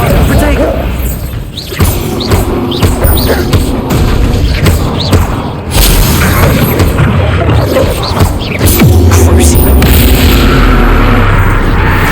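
An Incendiary spell explodes in a Hogwarts Legacy fight, with booming fiery blasts and crashes over a dense, loud battle soundscape while a voice talks throughout.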